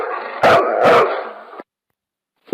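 A dog barks twice in quick succession, close and fairly loud over a steady background noise, then falls silent.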